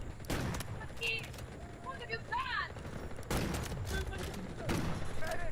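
Gunfire in the Delta Force video game, with dense bursts of shots and rattling fire through most of the stretch, fairly loud and continuous, with a voice talking over parts of it.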